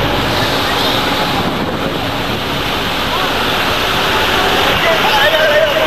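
A swollen, rising river rushes strongly during an emergency in Upala, making a dense, loud, unbroken roar that stays steady from start to finish.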